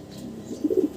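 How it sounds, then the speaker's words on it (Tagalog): Small pigeons kept in a loft coo in a few soft, low rounded calls, close by and fairly quiet, over a steady background murmur. "Ito mga kalapatid"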